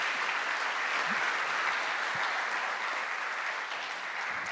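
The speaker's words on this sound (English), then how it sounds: "please give a big applause to her" Steady, dense applause from a conference audience greeting a keynote speaker, continuous and fairly even throughout with no talking over it.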